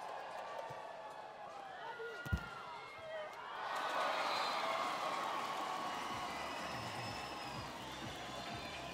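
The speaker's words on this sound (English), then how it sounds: "Something for the crowd to shout about." A crowd at a women's beach volleyball final at the Brasilia Open cheers and shouts after a rally, swelling from a sharp hit into a sustained roar, with a commentator talking over it.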